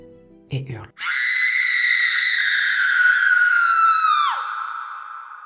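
A woman lets out one long, loud scream outdoors at night. It holds steady for about three seconds and then breaks off sharply, after a brief muffled sound at the start.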